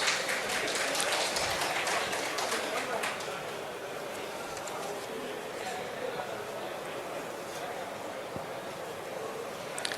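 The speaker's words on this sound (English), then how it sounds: "Please give a big round of applause." Audience applause at an honouring event in Puducherry, a steady broad wash of clapping that stays fairly even, louder in the first few seconds and then settling, with voices mixed in.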